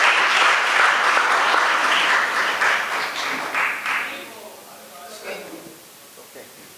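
Clapping from a group at a community leaders' appreciation event at ISKCON Chicago rises loud at first, then thins and fades out, with some talk mixed in toward the end.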